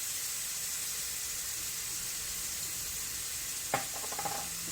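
Food sizzling steadily in a frying pan, a loud, even hiss that runs throughout, with a brief clink and a few soft knocks near the end.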